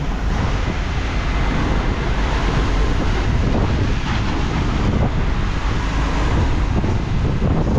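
Strong typhoon wind roars continuously against the microphone aboard a boat at sea while heavy waves churn underneath, a loud, unbroken stormy rumble with no voices.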